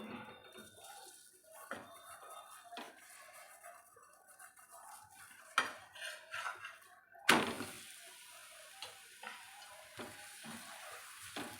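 Spinach paratha cooks in oil on a pan, giving soft, intermittent sizzling and scraping that swells into louder crackling bursts partway through before settling into sporadic pops and stirring sounds.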